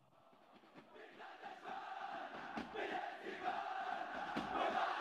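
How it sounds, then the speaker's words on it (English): A group chants a well-known Egyptian football fan song, rising in a rhythmic crowd chorus that grows louder over several seconds, heard from a short distance. "This is a very famous song for fans for the biggest team in Egypt."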